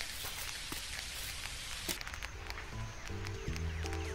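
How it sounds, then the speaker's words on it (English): Rain falls in the farming video game Dinkum as a steady hiss of patter. Soft game tones chime in over the rain during the last couple of seconds. "And time to see rain."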